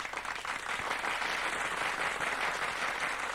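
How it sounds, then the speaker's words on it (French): A whole village audience applauds with a steady, dense wash of clapping that holds at an even level throughout, with no voices over it. "mais tout le village l'applaudit"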